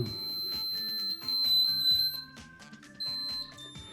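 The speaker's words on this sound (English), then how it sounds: "this one starts beeping and flashing so you can find your keys wherever you located them." Rapid, piercing electronic beeps from a key finder in an irregular pattern, loud and close, repeating in short bursts with brief gaps between.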